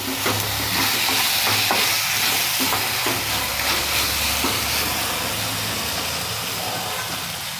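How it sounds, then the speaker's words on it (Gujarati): Soy sauce and vinegar being stirred in a hot pan for soya chunk Manchurian, a steady sizzling hiss with faint scraping of the spoon throughout, close and continuous with no talk. "હવે આ બધું મિક્સ કરી દેવાનું"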